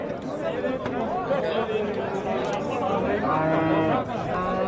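Dairy cows moo at a busy livestock market, with several long, deep calls rising and falling over steady crowd chatter and nearby voices.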